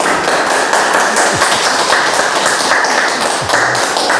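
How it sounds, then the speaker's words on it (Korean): Live audience applauding, a dense, loud burst of many hands clapping close by, continuous for a few seconds. "훌륭한 박수 쳐 박수."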